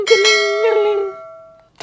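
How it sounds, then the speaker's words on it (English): A bell-like ding rings out loud and close, its harmonic tones sustaining and slowly decaying over more than a second before a brief new sound cuts in at the end. "Hit that little ding."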